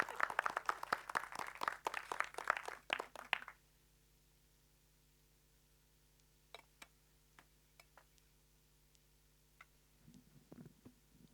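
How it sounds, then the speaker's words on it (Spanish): A church congregation gives brief applause as a friend comes up to read a Bible passage, a short burst of close clapping that stops abruptly, followed by quiet with scattered faint taps. "Un aplauso para Lionel."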